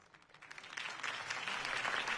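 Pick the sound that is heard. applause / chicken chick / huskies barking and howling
applause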